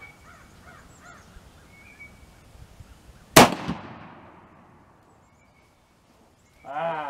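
A single sharp black powder rifle shot cracks loudly, then a rumbling decay fades into quiet, with faint bird calls in the background before it and a brief sound near the end.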